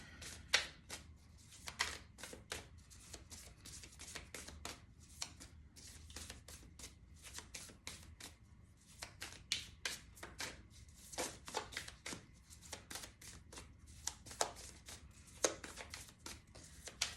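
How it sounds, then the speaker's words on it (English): Oracle cards shuffled by hand in a quiet room, a steady run of soft riffling and papery flicks with brief pauses, close and fairly faint, no talking over it. "It's really making me shuffle tonight."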